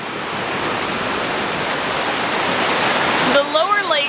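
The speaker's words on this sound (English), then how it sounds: "The lower lakes seem to have big, loud, amazing waterfalls" Loud waterfall at Plitvice Lakes National Park in Croatia, a steady close roar of falling water filling the whole clip, with a brief voice-like warble rising over it near the end.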